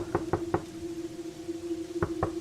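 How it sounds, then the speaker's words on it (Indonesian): Knocking on a house's front door late at night, a sound effect of three quick knocks, a pause, then three more, over a faint steady hum. "terdengar ada ketukan di pintu depan rumah"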